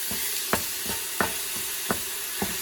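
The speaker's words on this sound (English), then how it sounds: "We're going to be browning the meat, is what it's called." Ground meat and sausage with onion browning in a pan for armadillo-style chili, a steady close sizzle broken by about five sharp scraping stirs of a spoon, no voices.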